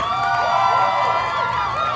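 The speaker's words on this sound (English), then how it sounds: "Hopefully their applause is playing." A sound effect of applause plays: a steady, dense crowd roar of cheering and clapping with whistle-like tones, loud and continuous for the whole stretch, with no voices over it.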